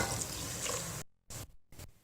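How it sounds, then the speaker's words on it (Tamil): Water poured from a tumbler into a cooking pot holding leftover rice and dal: a steady splashing pour for about a second, then two short separate pours after a brief pause, close and clear with no talk. "இதில் 2 டம்ளர் தண்ணி ஊற்றிடலாம்."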